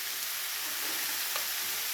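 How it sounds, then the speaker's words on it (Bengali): Spices and chili frying in a pan for a bitter gourd dish, a dense, even sizzle with faint stirring throughout. "এবারে সমস্ত কিছুকে একসাথে খুব ভালো করে ভেজে নিতে হবে।"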